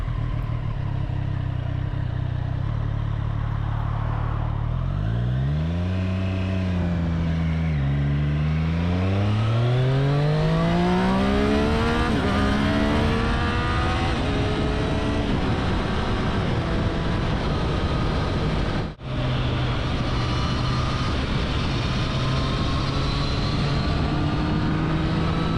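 A Triumph Street Triple RS motorcycle ridden on the road, its engine droning loud and close, then revving up through rising pitch sweeps under steady wind rush, with a brief cut near the end before the drone resumes.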